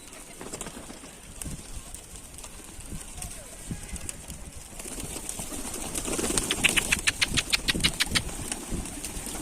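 Tumbler pigeons on a rooftop, with low background rumble and bird sounds, then a rapid series of about a dozen bright fluttering pulses near the end, like wing flaps, fairly close.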